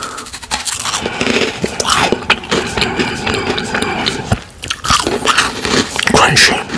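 Crunchy freeze-dried mango from Thailand is bitten and chewed close to the mic, with continuous loud crisp crunching and crackling throughout.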